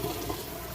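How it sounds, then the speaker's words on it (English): A Kenmore HE washing machine draining its water during the rinse cycle, a steady close rush and gurgle of flowing water with no pause and no talking. "it's draining the water out now."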